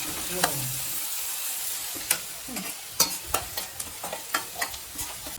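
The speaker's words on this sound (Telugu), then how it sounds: "ఒక 2-3 నిమిషాలు చక్కగా ఆయిల్లో రొయ్యలు వేసుకోవాలా" Prawns frying in hot oil for a potato, prawn and egg curry: a steady, close sizzle with sharp clicks of a spoon stirring the pan every second or so, no voices.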